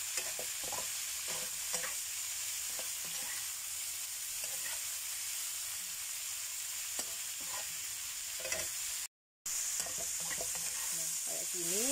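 Stir-fried bitter melon with smoked fish sizzles in a pan while a utensil scrapes and stirs in repeated strokes, a constant frying hiss running underneath, with no talking.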